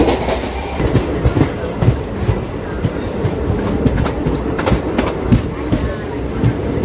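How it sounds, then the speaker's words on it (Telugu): A DEMU passenger train runs at around 90 km/h, its steady loud rumble and rhythmic clickety-clack of wheels on rail joints heard from inside the coach, continuous throughout. "ప్రస్తుతం మన ట్రైన్ స్పీడ్ చూసారా 90 కిలోమీటర్స్ వచ్చేసింది"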